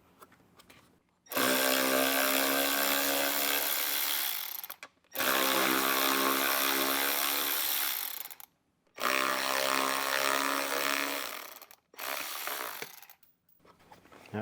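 Three long, loud bursts of a power tool whirring as bolts come out of a factory speaker pod module in a 2024 Jeep Wrangler or Gladiator, each run separated by short pauses, with a softer fourth burst at the end.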